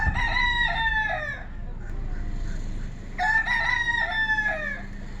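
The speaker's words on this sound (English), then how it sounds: "those are roosters on the side of the road" Two roosters on the side of a road in Tampa crow in turn, a long cock-a-doodle-doo, a pause, then another, fairly close over a steady outdoor hum.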